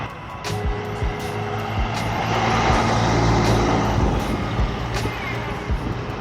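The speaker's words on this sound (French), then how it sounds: "Oh le camion, guette un peu." A truck passes on a New Zealand road, a rumbling engine swelling and fading nearby amid wind noise.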